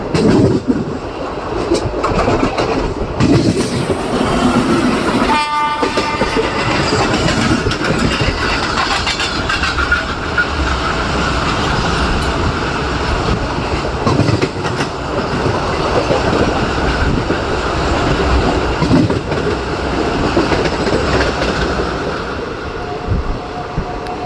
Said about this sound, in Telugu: మన సింహాద్రి ఎక్స్ప్రెస్ వచ్చేసి ఈ కొవ్వూరు రైల్వే స్టేషన్లో 2 గూడ్స్ ట్రైన్స్ని అయితే ఓవర్టేక్ చేస్తుందండి